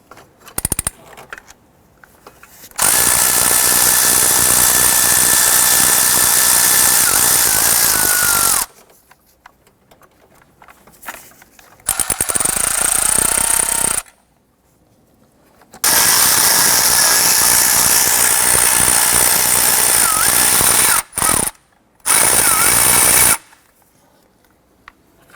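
Power tool loosening and removing 10 mm bolts holding the EGR valve to the upper intake on a 1993-1997 Ford Ranger, four loud sustained whirring bursts separated by quiet pauses.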